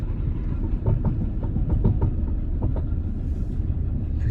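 A camper van with a broken CV joint creeps along at very slow speed, a steady low rumble carrying a repeating knocking clatter that ticks out regularly beneath the drive noise, close and continuous.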